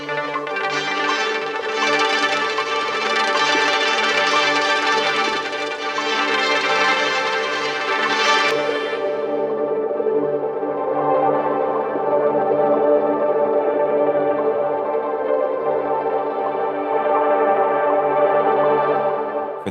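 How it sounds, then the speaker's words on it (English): A warm, hazy synth texture from an Infiltrator 2 preset that stacks filters and delays, with sustained tonal layers and an airy upper shimmer that thins out about halfway, leaving a steady, mellow wash that plays on alone. "This preset stacks a series of filters and delays to warm up the original sound"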